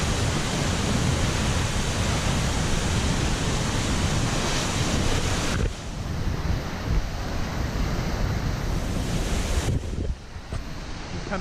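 A waterfall in the Columbia River Gorge, pouring over basalt, gives a loud, steady broadband roar close by that stays constant throughout, with a slight drop partway through and no voices.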